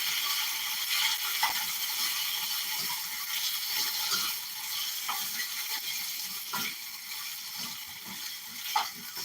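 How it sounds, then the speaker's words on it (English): Marinated stir fry for lo mein sizzles in a hot pan over a high flame, a continuous crackling hiss with occasional louder pops and stirring clatter, close and moderately loud with no talking. "Ooh, you hear that sizzling?"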